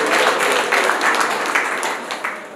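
Wedding guests applaud at a Rwandan celebration, a dense, steady patter of clapping hands from a crowd that eases off slightly toward the end.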